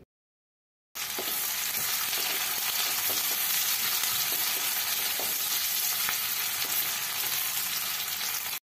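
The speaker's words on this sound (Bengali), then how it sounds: "লো ফ্লেম করে পেঁয়াজগুলোকে লাল লাল করে ভেজে নিয়েছি।" Onions frying slowly over a low flame in oil and ghee give a steady, crackling sizzle close by. It begins after a short silence and runs on without talk.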